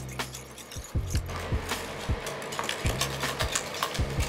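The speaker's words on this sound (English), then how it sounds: "Break out the whisk and give that a mix." A whisk stirs lobster roll dressing seasoned with lemon in a bowl, making a steady series of close, rhythmic clicks and scrapes against the sides.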